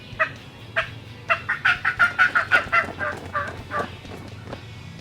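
A hunter's turkey fly-down cackle call, a voice imitating a hen turkey with a rapid run of loud, close clucks that rise then taper off, with a hat flapped to mimic wingbeats.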